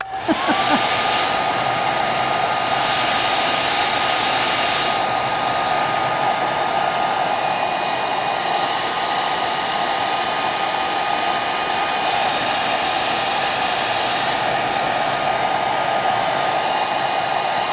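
A hair dryer blows steadily and loudly on paint over a gel printing plate, a continuous whooshing roar with no pauses and no voices throughout.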